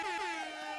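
A single loud air horn blast sounds alone, a brassy, sustained tone that bends slightly in pitch and holds steady for under a second.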